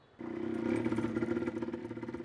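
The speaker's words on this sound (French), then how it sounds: "Sur la moto, également financée par l'UNICEF" A motorcycle engine in the Democratic Republic of Congo starts running close by after a brief quiet moment, then holds a steady, pulsing drone with a rapid throbbing rhythm for about two seconds.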